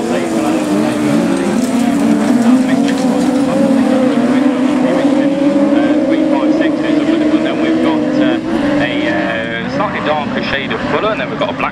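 Cars in a Class 8 heat at the Nige Thompson Memorial race meeting roar past together at the start, a loud continuous multi-engine drone with shifting pitch and a commentator talking over it throughout.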